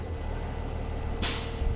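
A school bus idles with a low, steady hum until its air brake governor shuts off, releasing one sharp, loud burst of hissing air that quickly fades.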